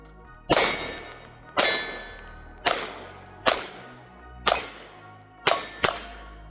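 Six sharp shots from a Bodyguard 2.0 pistol firing hollow point rounds ring out about a second apart, each with a ringing decay; one round sounds noticeably lighter than the rest.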